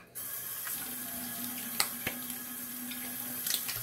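Tap water runs steadily into a bathroom sink during a shave with a Sandalwood Kamisori shavette, a close, even rush with a couple of faint clicks and knocks.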